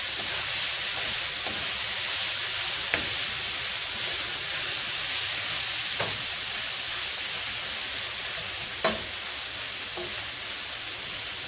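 Shrimp frying in a pan for lettuce wraps, a steady loud sizzling hiss throughout with a few faint pops and crackles, no talk.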